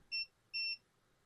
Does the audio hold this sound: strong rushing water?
no